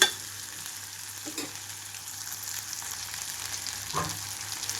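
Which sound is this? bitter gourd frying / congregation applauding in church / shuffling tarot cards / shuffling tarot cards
bitter gourd frying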